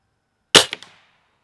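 One sharp, loud crack from a Cometa Fenix 400 air rifle fired in a forest, with a short ringing echo trailing off, alone in silence.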